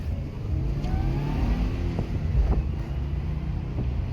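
A Subaru WRX with all-wheel drive accelerates hard, its engine drone rising in pitch from inside the cabin amid wind noise and a few light knocks, with no one speaking.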